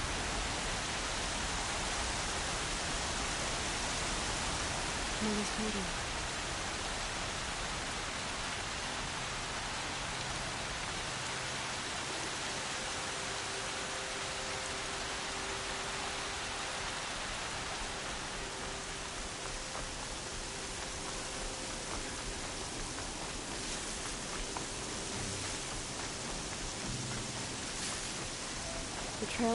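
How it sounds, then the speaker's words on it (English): Steady rain falling in the video game Horizon Zero Dawn, a constant even hiss with no breaks, with faint background tones beneath it. "Here comes the rain."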